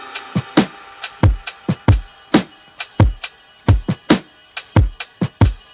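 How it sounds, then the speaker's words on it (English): Vintage boom bap drum loop from a sample library: punchy kicks and crisp snares in a steady, swung hip-hop groove, close and loud with no voices. "I went to Splice and I wanted to find some vintage boom bap drums."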